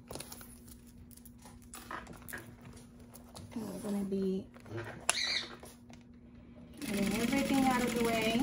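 Sewing machine stitching the seam of a crossbody bag, with short runs of fast rhythmic whirring and needle clatter, close and fairly loud, separated by pauses and fabric handling, the longest burst near the end.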